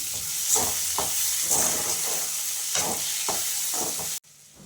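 Half a tablespoon of ginger garlic paste frying in a pan makes a steady, close sizzle and hiss, with light stirring scrapes running through it, before it cuts off abruptly near the end.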